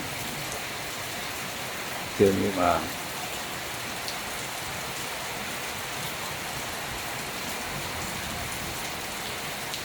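Steady rain falls continuously during flooding in Thailand, a dense even hiss of drops on surfaces, with a brief voice speaking faintly near the start.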